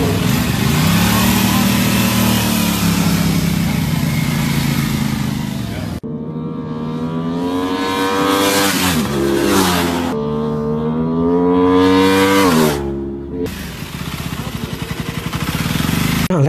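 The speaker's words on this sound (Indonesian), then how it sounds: "nanti KB sisipkan suara video atau suara mesin dari si RS 660" An Aprilia RS 660 with its 659 cc two-cylinder engine revs hard and close, pitch climbing and falling in repeated sweeps, with brief cuts between passes and no talking.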